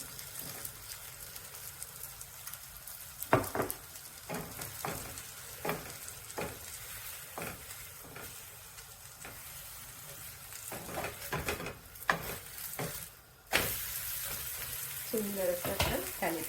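Mixed-vegetable thalipeeth frying in ghee on a pan, a soft continuous sizzle with occasional taps and scrapes of a spatula, louder crackle near the end.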